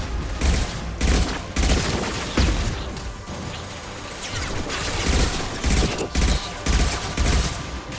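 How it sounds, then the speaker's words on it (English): Impact shot gunfire in Mass Effect 2, loud sharp bursts landing in an irregular rhythm roughly every second, layered over steady combat background. "Firing an impact shot."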